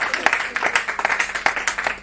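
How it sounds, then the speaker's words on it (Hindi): An audience claps in a lively, uneven burst at a comedy poetry show, the sharp individual claps close and loud, with a brief voice underneath. "तो जोरदार तालियां होनी चाहिए"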